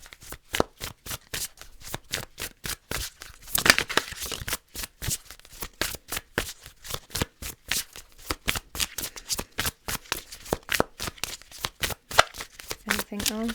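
Tarot cards shuffled by hand in a rapid, even riffling rhythm. Crisp flutters repeat steadily and close up, with no talk over them.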